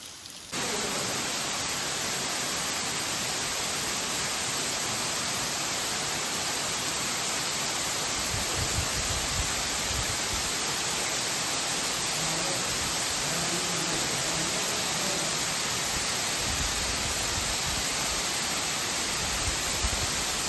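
Heavy rain at the Nenavali / Khadsambhale Buddhist caves makes a dense, steady rushing hiss that fills the whole stretch, loud and unbroken, with faint low rumbles underneath and no speech.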